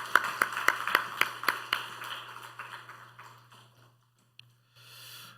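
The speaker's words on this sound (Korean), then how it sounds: "환영의 박수 하겠습니다." Welcome applause in a church, a few distinct hand claps in a quick rhythmic run that soften and fade out after a few seconds, leaving near silence.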